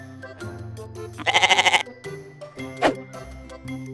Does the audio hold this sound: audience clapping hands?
no